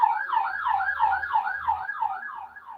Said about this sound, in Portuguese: Aproveitar que está passando uma sirene lá